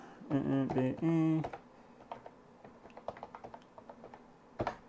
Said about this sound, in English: Quite squishy, those keys. It's definitely not mechanical, but it's pretty good.